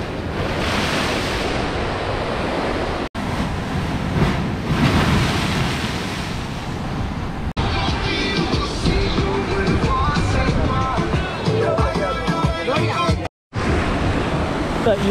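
Surf washes continuously onto the beach at Palomino, Colombia, a loud steady roar of breaking waves under buffeting wind noise on the microphone, with a couple of brief cuts.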